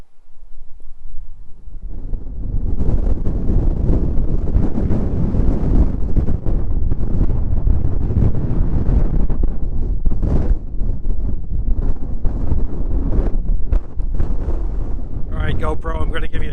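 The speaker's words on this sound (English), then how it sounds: "it was just so windy that I couldn't even hold the camera steady" Strong, steady wind buffets the microphone on an exposed hiking trail in the Badlands, a loud continuous roar with gusts that lasts throughout.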